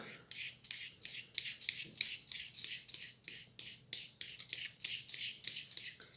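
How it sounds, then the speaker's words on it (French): A vegetable peeler shaving a block of chocolate into curls for a chocolate vanilla Yule log: close, crisp scraping strokes repeating in a steady rhythm, about three per second, quiet and alone. "vous pouvez prendre du chocolat, un économe"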